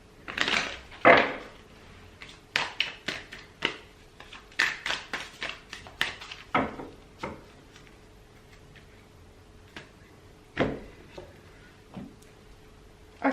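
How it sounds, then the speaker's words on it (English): Tarot cards are shuffled by hand in a quiet room, giving irregular bursts of crisp riffling and tapping separated by short pauses, close and fairly soft. "God, I cannot shuffle today."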